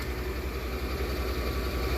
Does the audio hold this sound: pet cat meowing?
no